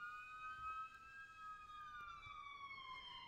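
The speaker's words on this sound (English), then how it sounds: "You hear that siren?" A faint siren wails outside in the distance, its rising and falling tone sliding downward in pitch as it passes and moves away, alone over quiet room background.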